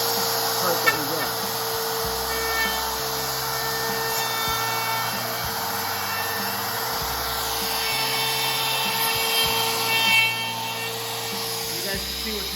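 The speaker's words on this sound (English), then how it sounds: "Gonna turn this on and cut out the part that we got." A router cuts a door hinge recess guided by a template jig, its steady motor whine running continuously beneath a broad wood-cutting hiss with brief scraping shifts, all fairly loud and close.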